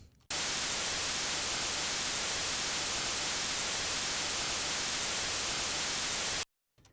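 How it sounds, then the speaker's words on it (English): Steady, dense hiss of broadband noise, loud and unchanging, starting abruptly and cutting off just as suddenly near the end. "I've got two tracks of randomly generated white noise."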